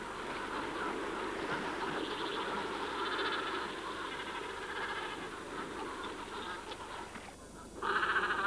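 Breeding seabird colony calling on an island, a dense continuous chorus of overlapping honking and quacking cries from thousands of birds, steady throughout with a louder burst of calls near the end.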